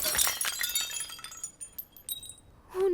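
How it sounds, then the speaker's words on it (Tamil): Glass shatters indoors in a home, with bright crashing and tinkling shards that scatter and settle over a few seconds. "கண்ணாடியை உடைச்சிட்டியா?"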